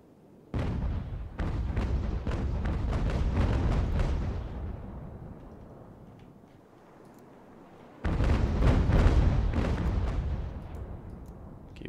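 Volleys of musket and cannon fire boom and crackle in a naval battle in Ultimate General: American Revolution, two long dense barrages separated by a quieter stretch, loud and close.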